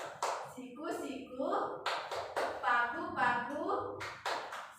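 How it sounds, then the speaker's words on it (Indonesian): Rhythmic Tepuk Malaysia hand-clapping game, sharp claps and taps in a steady pattern mixed with a woman's rhythmic chanting at close range in a classroom lesson. "Jadi tepuk Malaysia itu seperti begini."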